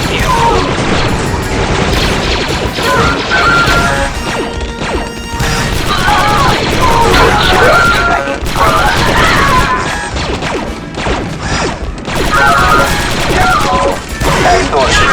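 Blaster gunfire in the Star Wars: Republic Commando game, with loud, dense volleys of shots and crashing impacts that run almost continuously and overlap heavy booms and battle noise.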